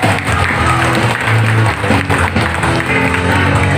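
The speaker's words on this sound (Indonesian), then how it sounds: "Tepuk tangan dulu dong." An indoor audience at an event applauds in a dense, continuous patter, with crowd noise and a musical tone running underneath throughout.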